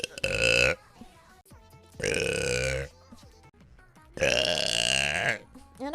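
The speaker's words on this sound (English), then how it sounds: "I keep burping." Three long, loud, drawn-out burps follow one another at close range, with short pauses and faint noises between them.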